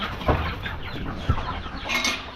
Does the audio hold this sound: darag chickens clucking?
yes